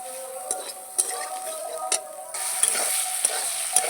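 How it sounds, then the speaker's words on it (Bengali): Soaked soybean pieces fry in a pan in a home kitchen, a steady close sizzle with scattered clinks of a utensil stirring against the pan. "কেটে নেওয়ার পর আমি এগুলো একটু হালকা করে একটু ভেজে নেব"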